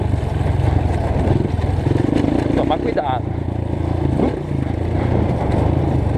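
Motorcycle engines labor up a dusty dirt trail with a steady mid-pitched drone and brief revs, close by, while someone talks over them.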